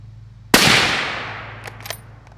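A single suppressed .308 rifle shot fired through a Rex Silentium MG7 suppressor: a sharp, loud crack with a long decaying tail, followed by faint distant ticks.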